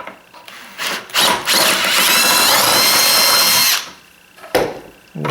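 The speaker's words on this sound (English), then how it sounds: "I'm just off with the one hole here, so I'm going to have to drill that out." A power drill bores out a hole in a shop cart, with a couple of short bursts, then a long sustained whine of about two and a half seconds, and a final brief burst, loud and close.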